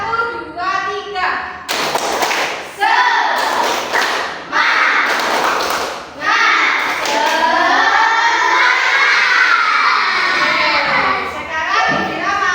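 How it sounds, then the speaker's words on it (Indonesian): A class of children claps a rhythmic cheer in bursts of quick, loud claps, with young voices chanting and calling out between the clapping patterns. "kita tepuk semangat dulu ya"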